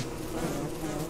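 Bees in the video game Don't Starve Together buzz in a steady, droning hum that holds evenly through the brief moment, fairly close and alone without speech.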